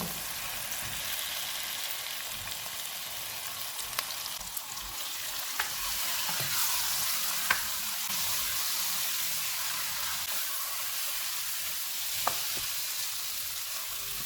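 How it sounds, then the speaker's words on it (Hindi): Chicken frying in a pan of cooked tomato masala for a Tomato Chicken dish, giving a steady soft sizzle throughout with occasional faint clinks and stirring sounds, fairly quiet and without talk. "अब इसमें तैयार किया हुआ चिकन डालेंगे और इसको 3 से 4 मिनट तक भूनेंगे"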